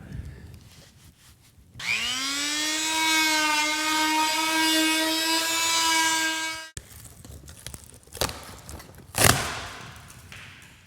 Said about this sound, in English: I'm going to switch over to a scraping blade on the fin here